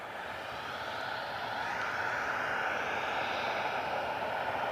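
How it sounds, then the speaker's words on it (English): Air Canada Jazz airliner taxiing at Cleveland Hopkins airport, a steady, continuous engine roar and whine held at moderate distance throughout, with no voices. "Air Canada Jazz is taxiing out."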